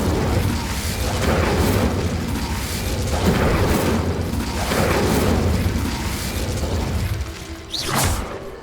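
Repeated Incendio fire spells cast in Hogwarts Legacy, each a booming whoosh of flame rolling over busy game noise, ending with a sharp bright burst near the close.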